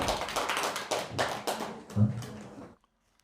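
Scattered hand claps from a few people fill a Buddhist temple hall at Jeongtosa, a fairly even patter at moderate volume that thins out and stops abruptly into near silence at the end.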